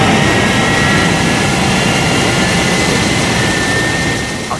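Thunderbird 1 lifts off in a television sound effect: a loud, steady jet roar with a broad, hissing rush runs without a break and eases slightly at the very end.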